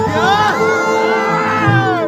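A crowd at a Bhojpuri event for Pawan Singh shouts and cheers loudly and continuously, with whoops and a babble of voices rising and falling over a short burst.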